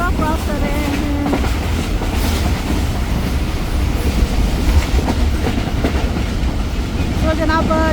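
A Subak Raftar railcar train runs nonstop at speed over the tracks past a station, with steady loud rumble and rhythmic clickety-clack of wheels, a few horn-like tones near the start and end.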